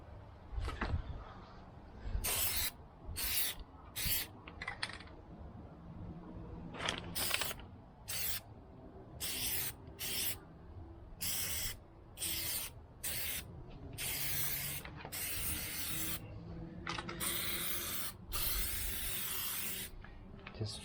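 Bursts of aerosol Plasti Dip hiss in repeated short sprays as a thick outer coat goes onto a Model 3 car badge, close and bright, with quiet handling noises between passes.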